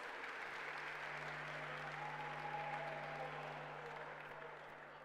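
Audience applause at a Ghanaian national science and maths quiz regional final, a faint, steady patter of clapping that swells slightly in the middle and fades toward the end, with a low electrical hum underneath.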